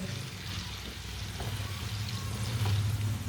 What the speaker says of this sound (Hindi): देखिए यहाँ पे आवाज़ आ रही ना, चम्मच चलाते हुए आवाज़ आ रही।